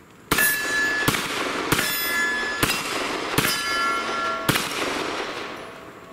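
Rock Island Armory Ultra FS 10mm pistol firing at a steel spinner target outdoors, six loud sharp shots spaced roughly a second apart, each with a metallic ring from the target.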